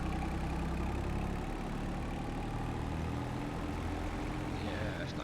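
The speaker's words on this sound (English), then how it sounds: "Yeah, it's a nice little tractor actually." An Antonio Carraro tractor engine idles in a farming video game, a steady low rumbling drone held evenly throughout at close range.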